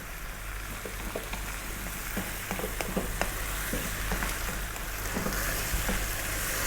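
Sliced mushrooms sizzle steadily in a pan for a fresh tomato spaghetti sauce, with scattered scraping stir strokes over a constant frying hiss at moderate, close volume.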